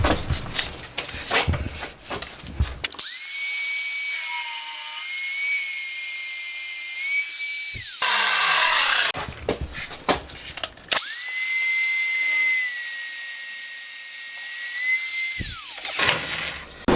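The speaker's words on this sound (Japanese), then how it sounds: "めったに使われることのないアングルドリル。 アングルドリル力が入らないんだよ" An angle drill whines at a steady high pitch while working on a lathe during installation of a digital readout, running in two long sustained bursts with a short pause between and clattering handling around them.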